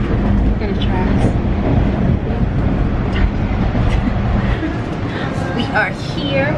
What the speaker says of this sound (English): that's like a little mini train and it takes us to our big mall